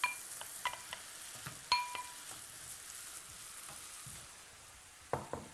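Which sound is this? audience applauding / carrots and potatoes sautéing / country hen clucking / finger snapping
carrots and potatoes sautéing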